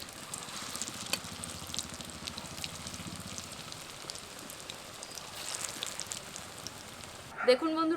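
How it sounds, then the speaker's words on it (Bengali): Masoor dal (red lentil) kababs fry in hot oil with a steady, even sizzle and crackle throughout, ending with a brief clatter near the close. No one speaks. "বাকিগুলোকে এইভাবে ভেজে নেব।"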